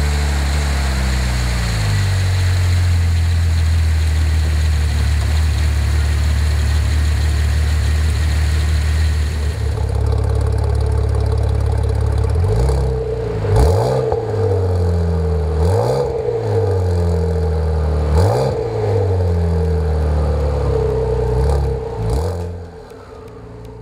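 Modified 2012 Chevrolet Camaro V-6 with twin turbos, forged internals and a custom fuel system, making about 20 pounds of boost; a steady loud idle, then a series of repeated sharp revs rising and falling, close up.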